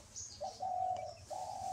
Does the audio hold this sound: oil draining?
no